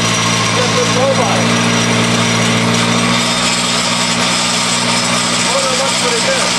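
A Monster Trike engine runs at a steady, loud, continuous drone with an even hum throughout, with some speech-like sound faintly mixed in.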